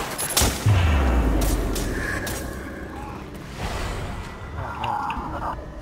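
Pistol gunfire in the video game Resident Evil Umbrella Corps: one sharp, loud shot with a booming low tail, then quieter game noise and faint voices.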